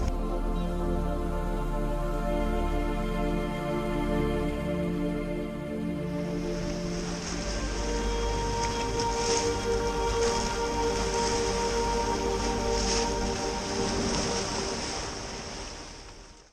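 Sea waves washing onto the Adriatic shore at a strait near the Mediterranean, a steady broadband surf wash with wind noise and a low rumble, continuous and fairly loud throughout, with no voices.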